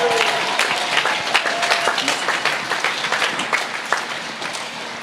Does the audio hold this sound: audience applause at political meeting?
yes